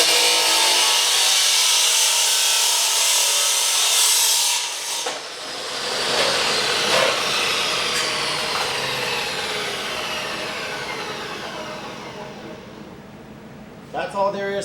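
A chop saw cuts through a workpiece in a loud, sustained grinding whine lasting around ten seconds, then spins down and fades, with a brief clatter at the end.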